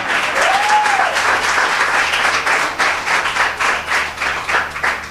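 A church congregation applauds steadily through a Sunday morning service, a dense wash of clapping hands that stays loud from start to finish, with faint voices mixed in underneath.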